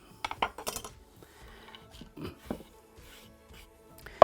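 A knife roughly chops almonds on a board in irregular, crisp taps with short pauses between, close by and fairly quiet, ending in a sharper knock.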